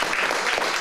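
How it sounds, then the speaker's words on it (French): Brief burst of audience applause at a French poetry event, a steady dense wash of clapping with no voices over it. "je crois qu'on peut les applaudir pour les remercier quand même"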